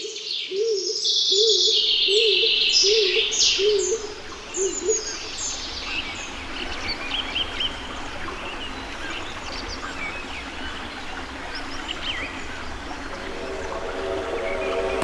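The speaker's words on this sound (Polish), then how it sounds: "W starych buczynach znajduje też schronienie gołąb siniak" A stock dove gives a series of low, repeated cooing calls near the start, while other birds chirp and twitter around it in an open, quiet old beech forest in the Table Mountains.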